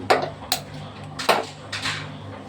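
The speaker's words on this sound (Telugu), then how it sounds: "గిన్నె పెట్టేస్తున్నాను పొయ్యి మీద." A metal pot being set down on a gas stove, giving a few sharp clanks and knocks spaced over a couple of seconds, close by and fairly quiet, with no talking.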